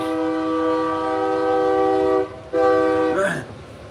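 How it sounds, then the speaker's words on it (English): A passing train sounds its horn loudly and continuously, a rich chord that drops out briefly and then resumes before fading into a rushing burst of noise from the rail cars. "Let the train go by."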